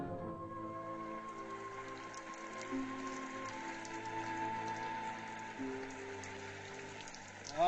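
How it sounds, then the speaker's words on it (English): Steady pouring rain outdoors, a constant even hiss of drops falling on surfaces that runs without a break from start to finish, with no voices. "sitting out here in this pouring down rain"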